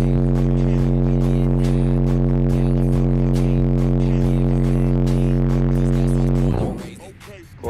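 Car audio subwoofers in a competition build with a 4000-watt Incriminator Audio Judge 15s setup, playing a steady, very loud 45 Hz bass test tone with heavy rattling harmonics for about six seconds before cutting off abruptly.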